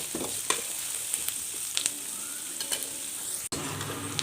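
Onions fry in a pan in a village-style kitchen, a steady close sizzle with light stirring scrapes and clicks throughout, no talking.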